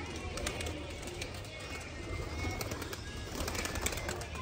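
Domestic pigeons at a pigeon loft, including young birds, cooing softly and repeatedly at close range over a steady background hum.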